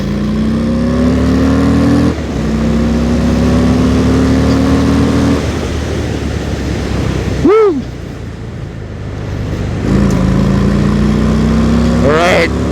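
A Harley-Davidson Fat Bob 114 motorcycle pulls hard along a wide city road in Cebu. The engine tone rises through several gears, with brief dips at the shifts and heavy wind rush throughout.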